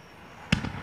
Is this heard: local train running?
no